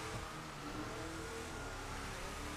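A pursuing car's engine in the video game GTA 5 drones and revs continuously close by, a steady mid-pitched roar with no voices.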